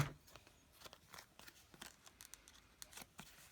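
Small scissors are handled during card making, with faint, quiet snips and light clicks scattered in an irregular rhythm with no speech.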